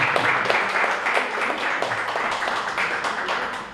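An audience at a Spanish-language talk on learning methodologies claps steadily for about four seconds, a dense round of applause that gradually thins, with faint voices mixed in.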